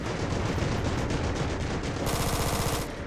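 Dense gunfire in the modded shooter game Ravenfield, rapid overlapping automatic bursts hammering continuously, shifting into a tighter, faster machine-gun rattle toward the end, loud and close.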